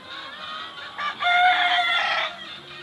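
Gamecocks kept for fighting crow and cluck close by, one long crow rising over overlapping clucks and calls from several birds.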